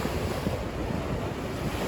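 Storm waves crash against the Yalta embankment at night in a continuous loud roar of surf, with strong wind buffeting the microphone throughout.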